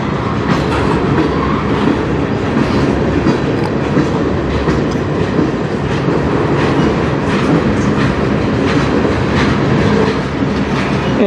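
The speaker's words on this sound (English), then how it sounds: "so I can get trains going under the bridge as well" CN freight trains on the Strathroy Subdivision thundering under the Denfield Road Bridge: a loud, continuous roar with rapid clickety-clack of wheels over rail joints lasting the whole stretch, no voices.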